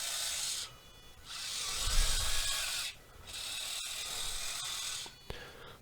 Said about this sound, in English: servo works as well